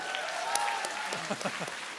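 An audience at an MCM convention Q&A panel with Lewis, Sips and Hat Films applauds, with scattered cheers and whoops. The clapping is dense and steady, with bright claps and voices mixed in throughout.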